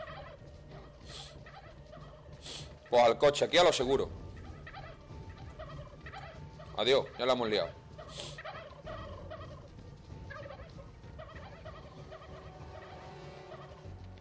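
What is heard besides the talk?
turkeys gobbling in video game How to Survive 2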